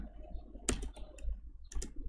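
Keystrokes on a computer keyboard while entering text into cells in Microsoft Excel, a few quiet clicks in two short clusters with near silence between, close and faint, no voices.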